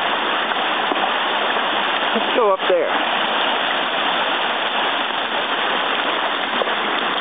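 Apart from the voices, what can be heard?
small waterfalls flowing over bedrock below a dam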